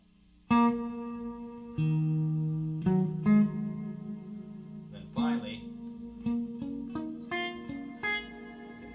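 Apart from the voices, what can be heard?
reverb effect from small room to long tail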